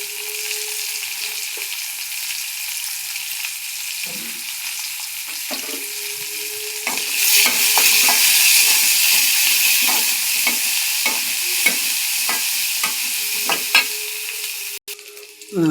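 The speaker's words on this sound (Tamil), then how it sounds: "வெங்காயம் நல்லா வதங்கிடுச்சு." Onion, garlic, dried red chillies and curry leaves sautéing in oil for a radish stir-fry. A continuous sizzle carries under repeated scraping and stirring strokes that get louder and busier partway through, close up, with no voices.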